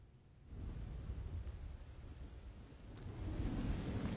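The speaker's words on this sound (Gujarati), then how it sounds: "ભાવનગરમાં પણ ભારે વરસાદ વરસ્યો" Heavy monsoon rain falls in Bhavnagar, Gujarat, as a dense broadband roar with a low thunder rumble underneath, swelling louder toward the end, with no voices.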